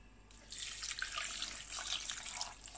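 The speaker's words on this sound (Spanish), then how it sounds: "echa agua" Cold water pouring from a kitchen tap into a container while mushrooms are being prepared, a steady close hiss and splash that starts abruptly and runs on without pause.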